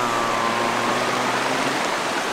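Steady broadband rush of falling water from Kanto Lampo Waterfall in Bali, Indonesia, continuous and fairly close, with no voices and no change in level.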